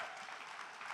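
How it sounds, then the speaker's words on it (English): Audience applause at a Roblox developer conference, a brief dense wash of clapping from a large crowd at moderate distance, filling the whole moment without talk. "Can we just get a round of applause for the team that set this up?"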